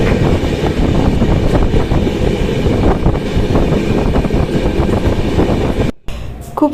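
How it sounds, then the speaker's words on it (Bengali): A train rumbles along steadily with rattling wheels and wind noise, loud and continuous, cutting out abruptly near the end. "তো চলো এবার ট্রেন ছেড়ে দেবে সিগনাল হয়ে গেছে তো আমি ট্রেনে উঠে পড়লাম"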